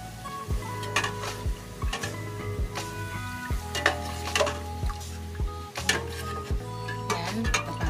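Pork belly fries and sizzles in a pan, a steady crackling hiss broken by repeated clanks of a utensil stirring and scraping the pan, up close.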